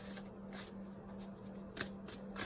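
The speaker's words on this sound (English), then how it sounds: "Now let's pull one of the animal spirit cards here" A deck of animal spirit oracle cards is shuffled, with soft, quick riffling and flicking of cards close by, fairly quiet against a low background hum, followed by a card being pulled.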